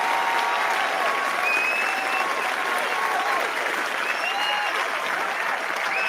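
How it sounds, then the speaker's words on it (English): Sustained audience applause fills a live indie game pitch competition, a dense, even wash of clapping from a sizable crowd, steady and loud throughout with faint cheering woven in. "Can we get a giant round of applause for the Arcane Warriors?"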